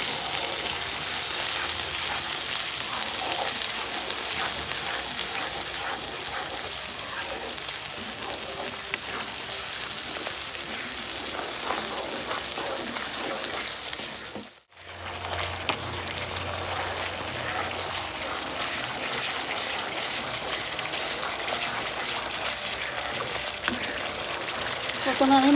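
Spice paste fries in hot oil over a lowered gas flame for a Bengali chicken dish, a steady rain-like sizzle broken briefly by a short near-silent gap midway before resuming just as loud.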